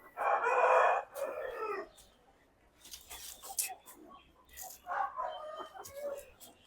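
A one-year-old red kakkira rooster, about 3 kg, crows loudly and nearby at the start. Quieter clucks and calls follow, and voices talk in the background.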